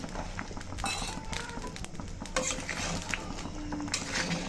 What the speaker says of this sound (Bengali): নেড়ে চেড়ে মিশিয়ে দিচ্ছি।